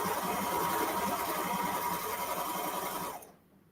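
A sewing machine stitches a wider-than-usual seam on a ruffle dress, whirring steadily and evenly for about three seconds before stopping abruptly into near silence.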